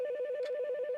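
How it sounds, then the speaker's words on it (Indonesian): A telephone rings in the Roblox horror game The Morgue Shift, a steady electronic tone warbling continuously through the whole second and standing alone without any voices. "Angkat telepon."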